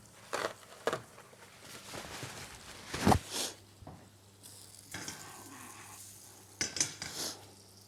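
Pear slices browning with sugar in a pan, caramelizing, with intermittent clatters and scrapes of utensils against the pan over a soft background sizzle.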